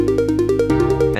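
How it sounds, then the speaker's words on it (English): Short synth arpeggio built from four-note steps climbing upward like a staircase, repeated in a bright, plucky pattern that shifts up partway through, played alone and close with no talking. "You build a little arpeggio that climbs the scale."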